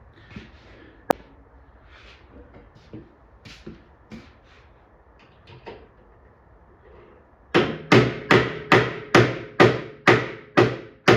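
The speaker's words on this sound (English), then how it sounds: "I have to get a hammer and see if I can't tap that down" A hammer taps down a part on an arcade cabinet during restoration, starting with quiet scattered handling knocks and then a run of about ten loud, sharp, evenly spaced metallic strikes close by.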